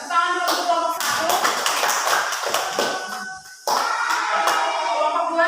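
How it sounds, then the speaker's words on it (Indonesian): A classroom group gives applause, a quick burst of many hands clapping near and loud, briefly dropping off before another round of clapping resumes, with voices mixed in. "tepuk tangan dulu untuk kelompok 1"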